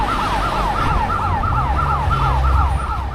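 An emergency vehicle siren passing nearby, a loud repeating wail cycling rapidly over a steady rumble of road traffic, with no talking.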